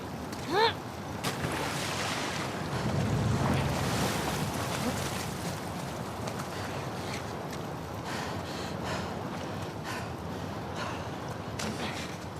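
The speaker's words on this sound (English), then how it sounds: "the player was faced with a fast-flowing torrent of water they couldn't cross" A fast-flowing torrent of water rushing through a sewer in The Last of Us Part II, a steady, dense roar that fills the whole stretch without letting up.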